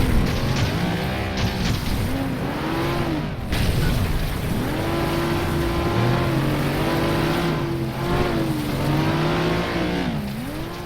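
Race cars in the FlatOut video game roar continuously, engine pitch rising and falling through gear changes, with bursts of tyre squeal and skidding and no talking.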